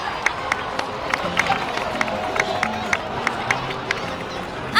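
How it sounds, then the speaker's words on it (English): A crowd in the video game Genshin Impact applauds and cheers its heroes, steady rhythmic clapping over a bed of crowd murmur, moderately distant and even in level. "please give another round of applause for them"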